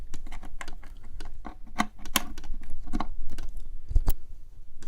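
Keys clatter in quick, irregular bursts as someone types on a computer keyboard plugged into a small single-board setup, with a few sharper, louder key strikes standing out near the end.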